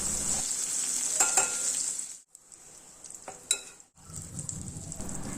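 Dry fish fries in a pan with a bright, close sizzle, broken by brief pauses and clattering scrapes as the pieces are turned over, with no talking.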